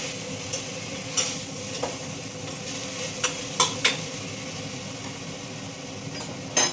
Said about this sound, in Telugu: కొంచెం ఆయిల్తో పోపు పెట్టుకుని దాంతో ఇలా మగ్గించుకుంటే బాగుంటుందని నా ఫీలింగ్